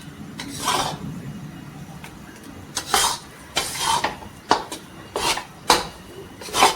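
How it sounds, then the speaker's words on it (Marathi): Gram flour is dry-roasted in a pan while a spoon stirs it, making repeated scraping and rasping strokes in an irregular rhythm, close and moderately loud, with short quiet gaps between strokes. "याप्रमाणे आपल्याला बेसन भाजून घ्यायचं आहे"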